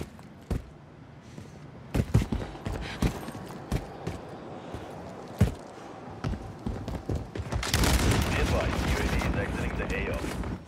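Video game gunfire crackles in scattered sharp shots and short bursts throughout, growing into a dense, loud barrage near the end, with a player talking intermittently over it.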